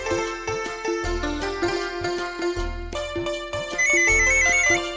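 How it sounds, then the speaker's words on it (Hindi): A mobile phone ringtone plays a bright repeating melodic tune with a steady thumping beat, loud and alone, lasting several seconds without any voices. "सॉरी, मेरा फोन आ रहा है।"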